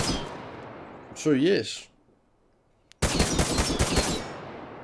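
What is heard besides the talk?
gunfire from a gun in the video game Miscreated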